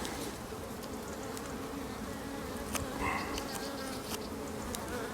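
Steady buzzing of many honeybees close by around a Miniplus hive with queen cells, a continuous hum with occasional sharper flits as individual bees pass.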